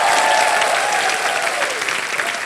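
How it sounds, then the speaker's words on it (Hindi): Loud, dense studio audience applause rolls through a Hindi Wheel of Fortune–style game show, a sustained burst of many hands clapping with a faint tonal line running beneath. "जोरदार तालियां।"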